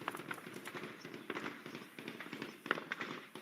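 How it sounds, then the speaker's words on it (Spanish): Gunfire from clashes on the northern front of Al-Fashir, Sudan, comes through as scattered sharp cracks and pops over a continuous noisy background, moderately distant and fairly faint. "En Al-Fajir así se escuchan los enfrentamientos en el eje norte."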